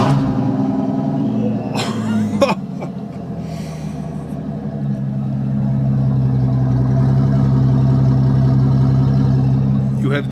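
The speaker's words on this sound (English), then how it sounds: "So now starting up the Maybach Exelero." A Maybach Exelero with a V12 bi-turbo engine cranks over with a sharp catch, then settles into a deep, steady idle rumble that swells slightly, heard up close with people talking.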